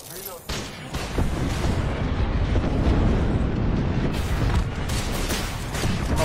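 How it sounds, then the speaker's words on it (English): A grenade blast in an online shooter game, a deep rumbling boom that sustains loudly for several seconds with debris noise, under a player's voice. "That's my nade."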